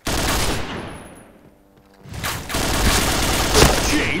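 Gunfire from an AUG assault rifle in the Point Blank video game, a loud burst up front, then a near-silent gap, then sustained rapid fire with a sharp peak late, with a voice faintly mixed in.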